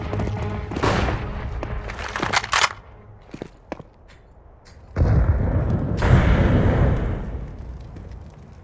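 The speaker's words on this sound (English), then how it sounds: "I'm throwing a flashbang." A flashbang grenade goes off in the CS:GO video game, heard as several sharp bursts early on and then a loud, sustained blast with a ringing wash that lasts several seconds before fading.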